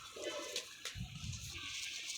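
Pigeons cooing: soft low coos, faint and close, over quiet background hiss, with no talk.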